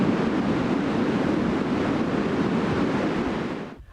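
Strong Scottish wind gusting at 40-50 mph roars steadily and loudly across the microphone, a continuous broadband rush with no voices, fading at the very end.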